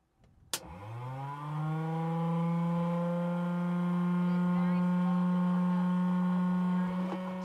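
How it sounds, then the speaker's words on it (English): An electric fuel pump on a long-stored vehicle, kept in a museum for 21 years, clicks on abruptly and settles into a steady, fairly loud droning whine that holds unchanged for several seconds. "Fuel pump turning on."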